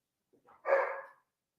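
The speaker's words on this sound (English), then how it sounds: "My dog's barking." A dog barks once indoors, a single short, fairly loud bark preceded by a faint yip or whine, with silence around it.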